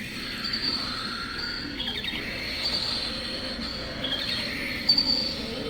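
Halloween animatronic LED skeleton bat toy playing its effect, with faint, thin high-pitched squeals and chirps over a low hum, quiet and fairly distant, with a brief sharper burst near the end.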